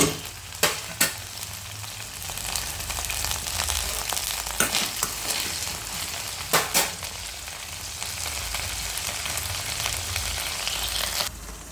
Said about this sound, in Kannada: ಈ ಬದನೆಕಾಯಿ ಹಸಿಗೆಲ್ಲ ಹೋಗೋ ಹಾಗೆ ಹುರಿದು ಹೀಗೆ ಮುಚ್ಚಿಟ್ಟಿದ್ದೀನಿ